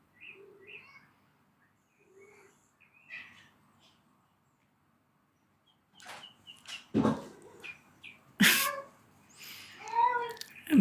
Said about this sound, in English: And my cat's playing Romeo and Juliet